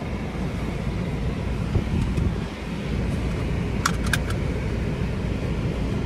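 Inside a moving car, a quick cluster of sharp metallic clicks from a seatbelt buckle latching cuts through a faint, steady road and wind rumble, with no voices present.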